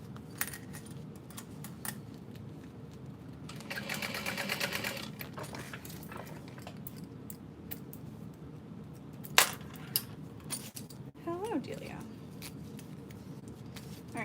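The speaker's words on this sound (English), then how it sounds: "I am gonna top stitch this just because it'll sit better." Sewing machine top stitching a diaper bag muslin, its steady mechanical whir running in bursts close by, with small clinks and brief talk mixed in.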